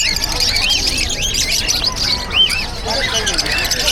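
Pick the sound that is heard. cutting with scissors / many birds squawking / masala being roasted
many birds squawking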